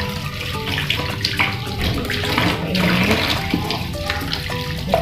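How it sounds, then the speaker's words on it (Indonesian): Large green onions rinsed under a running kitchen tap, a steady, fairly loud splash and gush of water with small shifts in flow and no talking. "Daun bawangnya besar, jadi saya akan bilas takut ada kotoran di dalamnya."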